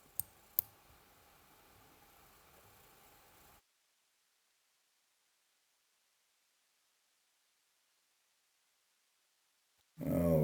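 Two sharp computer mouse clicks close together near the start, over a faint hiss, while browsing a house-for-sale listing online; then silence, and a burst of noise at the very end.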